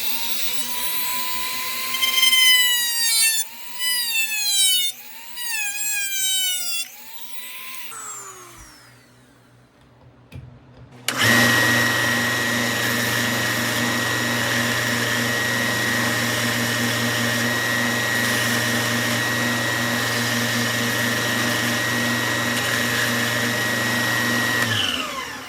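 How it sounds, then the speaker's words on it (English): A Dremel rotary tool with a cutting disc bit cuts through a Kydex OWB holster; after a few short whirring bursts and a pause, the motor runs loud and steady for a long continuous cut. "we're gonna use a disc bit on Dremel to just cut that out really quick"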